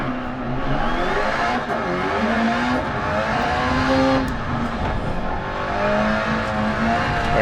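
Rally car on the Pikes Peak hill climb in DiRT Rally, engine revving hard and climbing through gears with rising and falling pitch, a loud continuous roar with brief tire noise.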